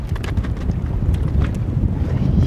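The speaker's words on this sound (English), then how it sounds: "we are quite stressed because it's a bit windy" Strong wind buffets the microphone at a boat repair in Preveza, Greece, a continuous low roar with gusty fluctuations throughout, nothing else standing out.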